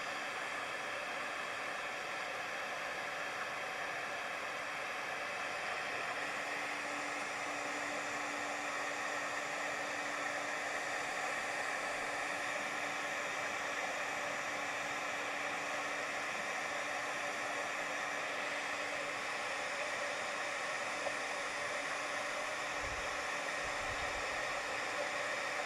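A heat tool blows with a constant, even whoosh as it melts embossing powder from underneath, running steadily for a long stretch with no one speaking.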